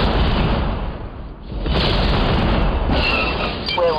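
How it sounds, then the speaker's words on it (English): Main cannon fire from an armored vehicle in the Star Wars Force Commander strategy game, a sustained heavy booming rumble that fills the whole stretch, with a brief dip partway and crackling blasts near the end. "Firing main cannon"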